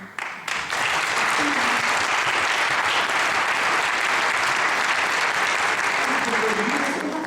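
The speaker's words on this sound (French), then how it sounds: "C'est pour eux les applaudissements surtout." Loud, sustained applause fills the hall at the 2019 Prix Marin award ceremony at the Hôtel de Région Auvergne-Rhône-Alpes, swelling in after a brief start and holding steady throughout.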